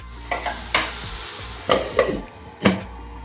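Potatoes sautéed in a covered pan for a white potato curry: several short stirring scrapes and clatters over a soft, low sizzle, heard close with no talking.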